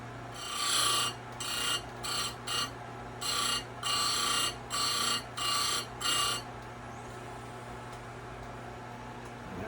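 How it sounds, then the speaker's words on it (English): A Simington chainsaw chain grinder works square-ground chain teeth in a series of about nine loud, harsh grinding bursts, each a second or less long, separated by short pauses over a steady low motor hum, then the grinding stops and only the hum continues. "I'm just going to grind the rest of them to that"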